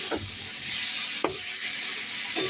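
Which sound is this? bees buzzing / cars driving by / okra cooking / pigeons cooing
okra cooking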